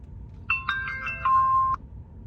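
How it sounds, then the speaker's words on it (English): A LingDu LD06 4K dash cam plays a short electronic power-on chime: a quick run of bright beeping tones ending in a sustained note, lasting about a second, clear over a quiet background. "now to wait for the confirmation from our dashcam"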